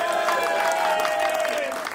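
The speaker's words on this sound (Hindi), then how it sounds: "तो तालियां बजाएं दोनों डैड्स के लिए प्लीज" A wedding audience claps for the two dads at a destination wedding at a fort, producing a loud, dense burst of applause with a sustained tonal hum running underneath.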